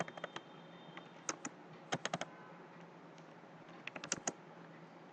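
Sparse, quick keystrokes on a computer keyboard while a command is typed into a Linux terminal, clustered taps separated by short pauses, close and fairly quiet over a faint steady background hum.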